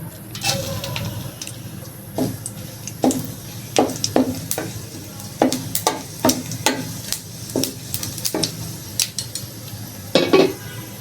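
Dried chillies, bay leaves and whole cumin sizzling in mustard oil in a wok, a steady fry under repeated sharp clinks and scrapes of a spatula against the pan, no talk.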